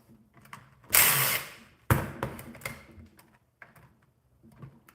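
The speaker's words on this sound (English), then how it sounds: "We're bringing the drill out." Short bursts of a power drill whirring as it drives screws, one long burst then a sharper second, followed by quieter clicks and rattles of handling.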